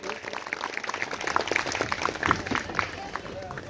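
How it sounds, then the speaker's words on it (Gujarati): An audience at an outdoor religious story gathering in a village pavilion claps steadily and fairly loudly to welcome guests onto the stage, with scattered sharp hand claps and someone talking over the applause. "સ્વાગત થતું હોય જોરદાર તાળીના અવાજથી વધાવશું."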